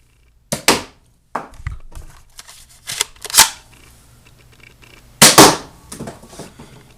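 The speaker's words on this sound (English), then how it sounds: "here's a quick firing comparison between the FireStrike and the SideStrike." Nerf ZombieStrike FireStrike and SideStrike blasters fire foam darts in a few separate loud, sharp pops spaced apart, each trailed by brief mechanical rattling and handling noise.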